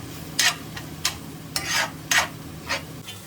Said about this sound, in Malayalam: തേങ്ങ കൂടെ ആഡ് ചെയ്തിട്ട് നന്നായിട്ട് മിക്സ് ചെയ്യുക